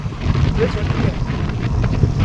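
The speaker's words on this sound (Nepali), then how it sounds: "यति हावा यति चिसो हावा" Cold wind in the hills of Dang, Nepal, above the Rapti river, buffets the microphone in a low, steady rumble with gusty swells, while a voice talks underneath.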